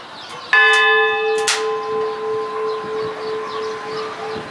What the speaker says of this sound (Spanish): Ahí está sonando un tañido de campana.